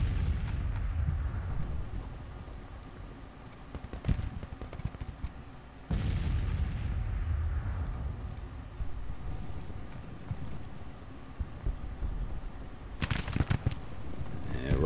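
Civil War cannon and gunfire in the strategy game Grand Tactician: The Civil War, with deep rolling booms over a constant low battlefield rumble and sharper blasts near 4, 6 and 13 seconds.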